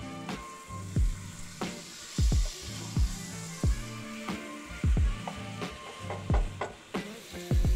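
Marinated mutton hits hot oil with fried garlic paste, giving a steady sizzle broken by repeated clinks and scrapes of a spoon stirring the pan, fairly close and with no voices.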